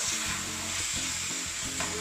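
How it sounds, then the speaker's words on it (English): Chicken frying in a pan full of oil for a stir-fry spaghetti dish, a steady close sizzle with a low rumbling hiss and a few soft stirring bumps, no voices. "And I'm just frying it."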